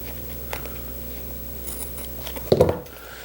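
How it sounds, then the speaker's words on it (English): Scissors make one short, crisp snip near the end, cutting covering material up to the corner of a Ford Model T sun visor frame. Quiet handling noise comes before it. "I'm going to make a cut right up to the corner of this visor frame"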